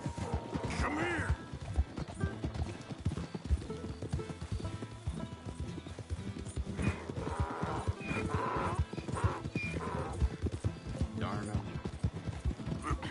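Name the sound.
donkey hooves clopping in the video game Red Dead Redemption 2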